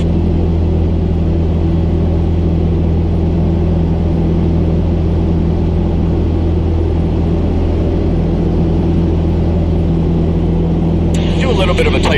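Piper Cherokee 140 light aircraft engine droning steadily in flight during a test flight after cylinder work, a loud, constant low rumble with a voice talking over it.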